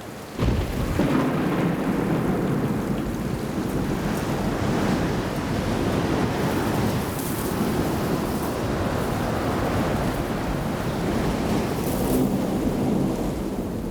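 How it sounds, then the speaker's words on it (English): Hard monsoon rain pours down in the Sonoran Desert, driven by a violent wind, a dense, continuous roar that stays loud and unbroken with no voices. "First comes hard rain, driven before a violent wind."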